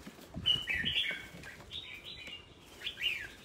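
Young chicks chirping in a few short, high, faint bursts, with a quiet rustle underneath.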